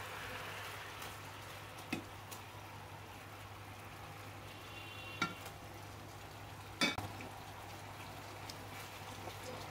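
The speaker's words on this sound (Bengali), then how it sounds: "এখন আমি মাছ দিয়ে দিব, হালকা 2-3 মিনিট একটু কষিয়ে নেব।" Fish cooks in spice paste in a pan, giving a low steady sizzle. Now and then a spoon scrapes or clacks against the pan in sharp, scattered knocks, fairly quiet and with no talk.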